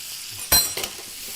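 Steaks frying in a pan with butter, garlic and thyme give off a brief loud burst of sizzle followed by a softer second spurt. No one speaks.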